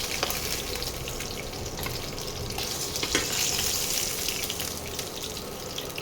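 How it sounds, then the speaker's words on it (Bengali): Fish pieces frying in a pan for a home-style mixed-spice fish curry, a steady close crackle and hiss with faint watery sizzle throughout and no talking. "বাকি মাছগুলোও আমি আস্তে আস্তে ভেজে নেব।"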